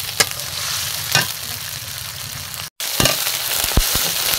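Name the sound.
frying cumin, chili, onion and garlic pastes in hot oil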